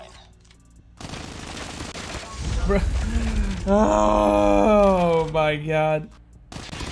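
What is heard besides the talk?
MSMC submachine gun firing in video game Call of Duty Mobile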